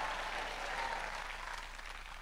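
Church congregation clapping loudly during a worship service, a dense continuous wash of applause from many hands at moderate distance.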